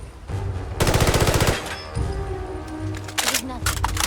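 Gunfire in the video game Fallout 4: a dense, rapid burst of shots, then scattered cracks and shorter bursts over steady game background, with talking throughout.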